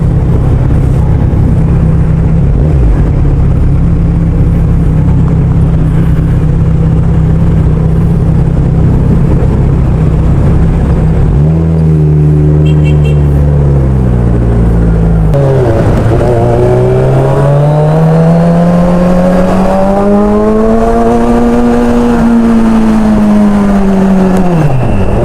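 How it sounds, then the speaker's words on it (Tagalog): Steady, loud engine drone from a vehicle in Saturday road traffic in the Philippines, with passing cars and a rising and falling rev partway through, no voices. "Medyo traffic ngayon, ano? Kahit Sabado madami pa rin sasakyan, syempre."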